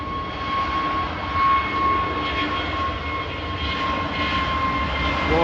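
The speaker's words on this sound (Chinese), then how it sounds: "这架东航的开始起飞了" A China Eastern airliner takes off at Kunming Changshui Airport, its jet engines giving a loud, steady roar with a thin high whine running through it.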